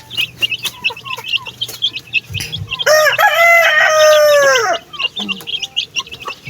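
Chicks and hens cluck and peep nearby while a rooster lets out one long, loud crow in the middle, with the chatter of the poultry continuing around it.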